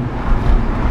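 A brief burst of low, rumbling engine and exhaust roar from an Audi A7 3.0 V6T with an Armytrix valvetronic exhaust and APR remap in dynamic mode, dense, loud and close, with no talking.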